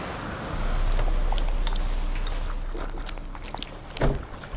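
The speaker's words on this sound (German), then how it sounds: "Es ist sehr stürmisch und regnet," Stormy rain hisses in the video game The Witcher 3 as a steady broadband wash of downpour, with a few brief knocks near the end.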